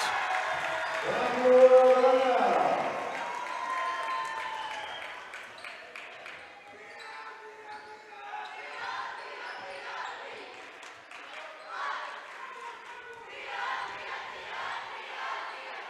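A home crowd cheers for the Bulldogs at a high school basketball game, with a loud burst of cheering early on that settles into ongoing crowd noise, with voices talking and a ball bouncing.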